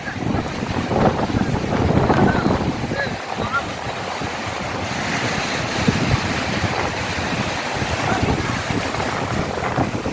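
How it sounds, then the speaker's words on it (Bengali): Heavy wind buffeting the microphone over the roar of rough sea surf at Gangasagar, continuous and loud, with faint voices underneath. "সমুদ্র উত্তাল"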